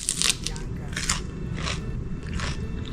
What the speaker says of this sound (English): the lettuce is so crunchy.